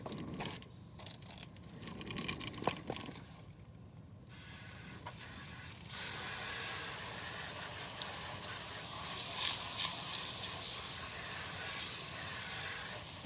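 Water spraying onto a car tire and wheel during a rinse after foaming wheel gel, a rising steady hiss that swells and stays loud and continuous from midway on, preceded by quieter mechanical clicks and handling sounds.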